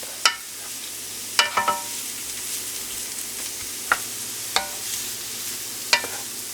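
Precooked potatoes and bacon reheating in a pan give off a steady gentle sizzle, punctuated by several sharp utensil scrapes and taps against the pan at irregular intervals, close up and without speech.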